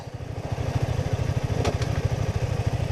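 A KTM RC125, a 125 cc learner sport motorcycle, runs its engine in a steady, rapid low throb with a faint higher whine, sounding close and constant throughout.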